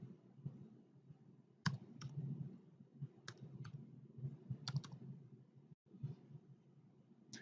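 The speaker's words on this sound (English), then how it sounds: "I'm going to go ahead and type the MAC address in here as well" Sparse keystrokes click on a computer keyboard while a MAC address is entered during a network gateway setup, with light isolated taps and short pauses in a quiet room.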